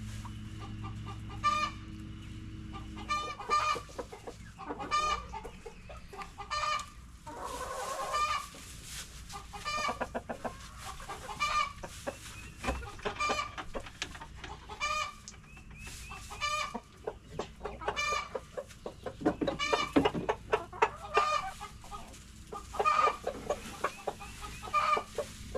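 Chickens clucking in a hen run, repeated short calls coming in bursts throughout at moderate distance, with scattered rustling and a few louder squawks near the end.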